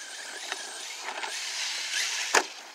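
A Senton RC car fitted with a 3600kv Surpass Hobby brushless motor drives and takes a jump, its motor whining steadily at mid distance with a few brief squeals and a sharp burst near the end.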